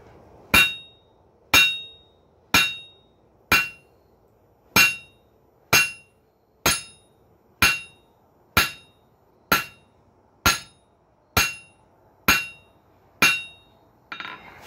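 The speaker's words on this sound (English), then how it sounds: "I'm gonna try using the flat of the hammer." A hammer strikes a metal hinge pintle about fifteen times in a steady, evenly spaced rhythm, each blow from the hammer's flat a sharp ringing clang, close by with quiet between.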